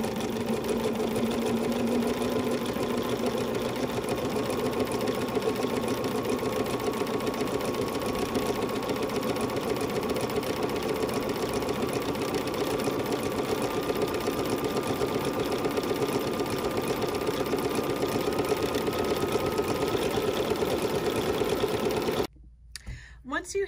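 A sewing machine runs steadily for over twenty seconds, joining fabric strips for an embroidery sampler block; its rapid, even whir stays close and continuous, then stops abruptly near the end.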